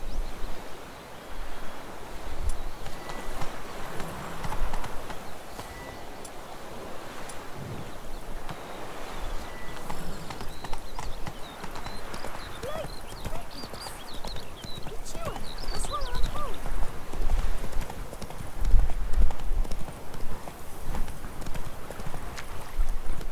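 Hooves of the horse Roach clip-clop steadily in a Witcher 3 game scene over a noisy ambient bed, with a voice talking intermittently.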